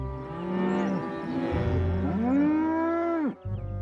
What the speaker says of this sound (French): Ces vaches ne devraient pas être là.